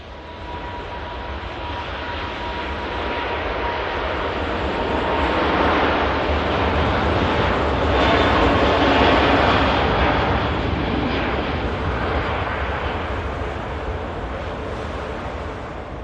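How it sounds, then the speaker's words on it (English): An Emirates Airbus A380 takes off from Manchester Airport bound for Dubai, its broad jet roar building steadily to a peak about halfway through and then slowly easing, with no voices. "Emirates A380 blasting out. Starting its flight over to Dubai."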